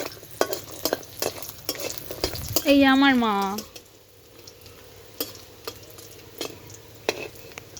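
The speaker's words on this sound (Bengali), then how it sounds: "প্রথমে বড়িগুলো ভেজে নিচ্ছে আমার মা" Bori, lentil dumplings, fry in oil in a pan while being stirred, a steady near sizzle with scraping stir strokes and clinks; someone speaks briefly over the cooking.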